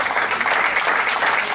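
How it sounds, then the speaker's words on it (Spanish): A church congregation claps together in a brief, dense burst of applause, loud and continuous for its whole length. "Denle un aplauso al Señor"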